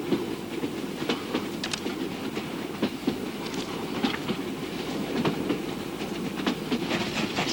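A train rolls along the rails with steady clickety-clack wheel beats and sharp metallic ticks over a continuous rumbling drone, loud and close throughout.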